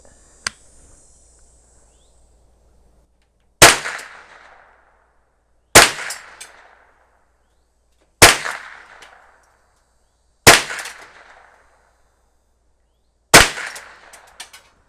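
Five sharp gunshots from a 1988 Marlin 60 rifle, spaced a couple of seconds apart, each loud crack followed by a short echoing decay outdoors, with a faint click before the first shot.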